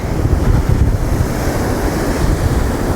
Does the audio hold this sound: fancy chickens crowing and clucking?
no